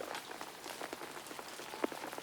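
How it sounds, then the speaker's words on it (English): Rain falling over a forest at night, a dense, even patter of drops with a few sharper taps, soft and steady with no voices. "The rain continued to fall over Sleepy Forest."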